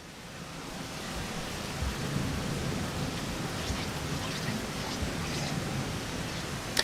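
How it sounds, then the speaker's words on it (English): Steady rain ambience in the video game Rain World, a dense even hiss with faint low rumbles that could be distant thunder, continuous and fairly loud with no talking. "But right now, everything is kind of rainy in this world."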